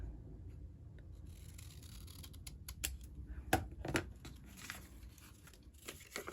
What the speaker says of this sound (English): put the two corners together and just kind of give it a snip